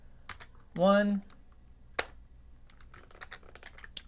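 Quiet, scattered clicks from a computer keyboard as a password is typed, sparse irregular taps around a short burst of speech.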